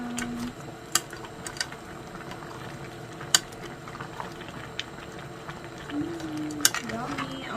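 Seafood cooks in butter in a pan and is stirred, with a steady bubbling sizzle and occasional utensil clinks. A voice can be heard faintly now and then under the cooking.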